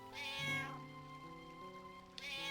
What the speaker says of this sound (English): that's a cat, apparently